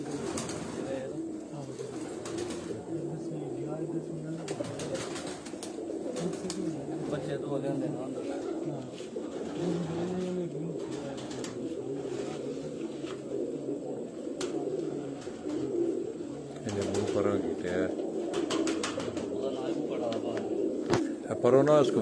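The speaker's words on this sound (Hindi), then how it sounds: "ये वो 11 के 11 कबूतर मैं आपको दिखा रहा हूँ" Pigeons coo continuously on a rooftop loft, their soft, low, rolling calls layered close by, with someone talking over them for much of the time.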